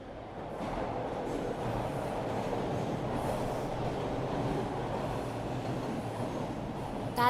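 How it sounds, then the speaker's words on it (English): A train rumbles through a station, a steady, fairly quiet roar of wheels and rail noise with a faint squeal near the end and no voices. "I find myself at the train station"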